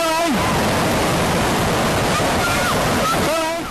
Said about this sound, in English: they still do get slammed by the powerful waves